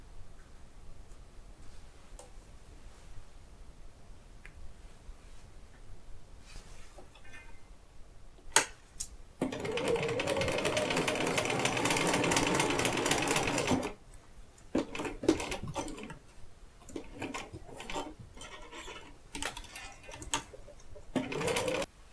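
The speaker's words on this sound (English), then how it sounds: "We've sewn the two halves together" A sewing machine stitches two quilt halves together in one sustained whirring run of several seconds, with scattered clicks and handling noises before and after, no talking.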